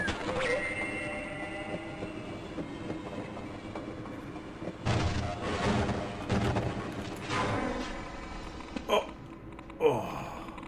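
Gunfire in Half-Life, a few sharp shots and bursts rising out of a steady mechanical rumble and whine, fairly close, with louder cracks near the end.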